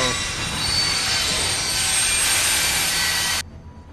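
In The Walking Dead video game, a train brakes with loud, harsh metallic wheel squealing and rumbling that holds steady for several seconds and then cuts off abruptly, leaving a quieter rumble.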